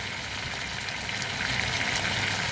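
Onions, carrots and mushrooms sweating in a pan with butter and olive oil, giving a soft, continuous close sizzle with faint crackles throughout.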